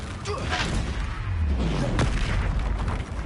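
Confringo blasting spell detonating in the game Hogwarts Legacy, a deep booming blast with a low sweeping rumble and a sharp crack near the middle, set against a continuous background of combat noise.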